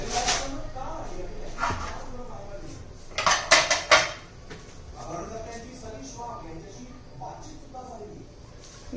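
Spinach puri dough with white sesame seeds being mixed in a bowl, with clinking utensil and dish knocks, a louder burst of clatter midway, while a person talks throughout.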